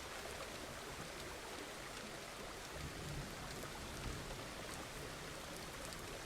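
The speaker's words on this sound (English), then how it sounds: "but it is raining today, so the fire is not going to do anything" Steady, faint rain falls continuously in the farming game Farmer's Dynasty, a soft even hiss of drops with no talk over it.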